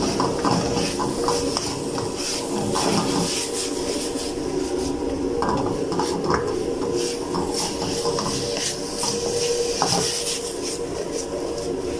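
Vegetable chicken with green chilies tossed in a pan: continuous scraping and rubbing of food against metal, with scattered clinks, all loud and close for the full length.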